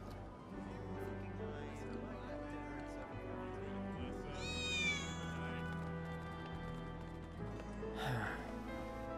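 Cats in the video game Final Fantasy 7 Remake let out a high, sliding meow midway, followed by a second short cry, over a bed of sustained game music.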